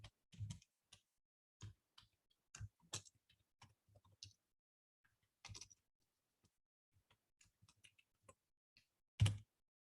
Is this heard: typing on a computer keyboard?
yes